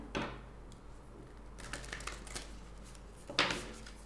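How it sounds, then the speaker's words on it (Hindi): Moonology oracle cards shuffled and drawn by hand, soft papery riffles and flicks in a few short bursts, quiet and close. "Let's get one Moonology Oracle advice card."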